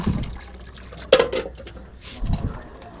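Potatoes caked with soil get rinsed in water, giving a few brief splashes and liquid sloshes, a sharper slosh in the middle and quieter swirling near the end, close by and without speech.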